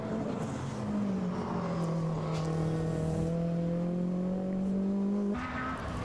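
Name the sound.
rally car speeding on Goodwood Motor Circuit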